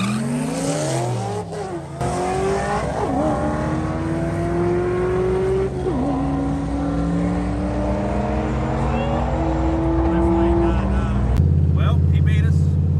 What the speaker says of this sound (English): We're about to go make our pass.